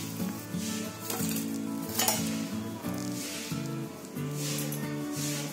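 Stuffed upma karanji deep-fry in hot oil with a bubbling sizzle, joined by occasional utensil clinks and a steady tonal melody in the background.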